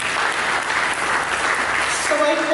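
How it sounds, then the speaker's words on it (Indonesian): Church congregation applauding during a sermon: steady, dense clapping from many hands fills the room throughout, with a brief tonal voice or instrument note rising near the end. "Berikan tepuk tangan bagi Dia."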